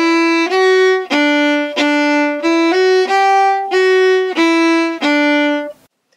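A violin plays a phrase of the Irish fiddle tune John Ryan's Polka alone, about ten clear bowed notes in a steady bouncy rhythm, close and loud, ending in a brief silence.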